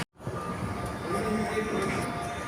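A driverless Doha Metro train in Qatar pulls away and gathers speed, a steady rumbling roll that begins abruptly after a brief hush and holds loud and continuous throughout.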